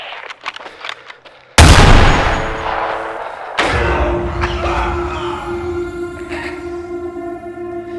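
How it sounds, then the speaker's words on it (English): Ketta gun in the Roblox game Hellmet fires a single loud, close blast that booms and rings out, then a second heavy shot follows, with a lingering metallic tail and faint clicks beforehand. "Now onto the gun everyone thinks is best, the Ketta."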